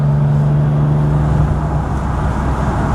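A 1960 Jaguar XK150 3.8 S fixed-head coupé driving at speed on the road past a van: a steady, loud engine and road drone with a low tone that holds for the first half before blending into the rumble.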